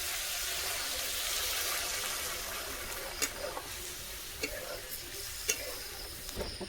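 Water hits a pan of frying vegetables for a curry, giving a steady sizzle with scattered ticks and stirring scrapes, at moderate loudness with no clear talk.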